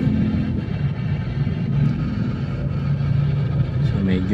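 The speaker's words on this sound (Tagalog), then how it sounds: "So medyo traffic talaga dito guys sa area na to." Road traffic near the PNR rail line in Marilao, Bulacan: a steady low rumble of engines from idling and passing vehicles, loud and continuous, with someone talking over it.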